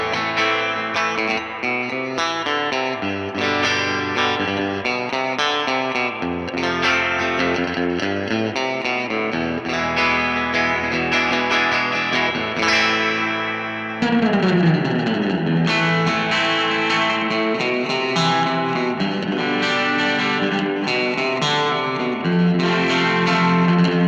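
An electric guitar plays through a Vox AC15 amplifier, first a chordal passage with effects, then a heavier distorted section, continuous and loud for over twenty seconds with no talking.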